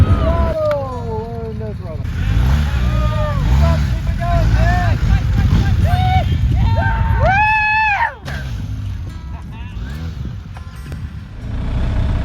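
A BMW 1250GS motorcycle revs and labors through a sand pit during off-road training, loud engine rising and falling across the whole stretch, with shouting and voices mixed in over the motor.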